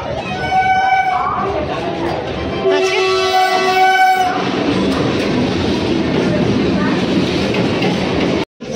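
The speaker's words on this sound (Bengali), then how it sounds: "মাম্মা চলে আয়, ট্রেন ঢুকে গেছে" A train pulls into a station with a loud, sustained rumble and rattle of wagons, and a long tonal horn sounds midway; people talk over the noise nearby.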